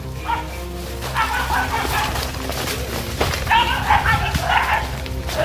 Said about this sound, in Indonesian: anjing kita telah menggonggong lor.